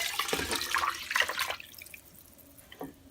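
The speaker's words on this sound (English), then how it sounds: "Now I'm going to top this off and leave about 2 inches from the top with water." Water poured into a soup pot, a splashing, gurgling stream for about a second and a half that then stops, leaving faint drips and quiet room noise.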